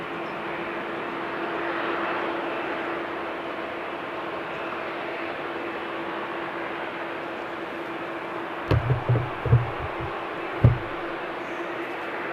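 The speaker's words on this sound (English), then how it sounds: "It will probably take off from the runway 24, but it's a nice big heavy plane to follow." A heavy Delta jet airliner at Amsterdam Schiphol Airport rumbles steadily in the distance as it prepares to take off, a broad low roar with a constant hum. A few brief bumps and knocks come near the end.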